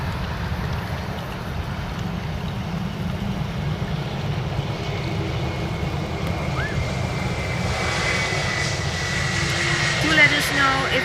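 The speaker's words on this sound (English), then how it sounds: "Next up, we have British Airways coming in from our close friends, as I call them, coming in from London to Amsterdam." A British Airways Airbus A319 arriving from London lands at Amsterdam Schiphol on the Polderbaan runway, a steady distant jet roar and rumble building slightly toward the end over windy outdoor noise.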